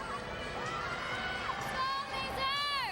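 A teammate cheers and shouts encouragement for a gymnast at an NCAA women's gymnastics meet in an arena, high-pitched voices rising over crowd noise with an announcer talking.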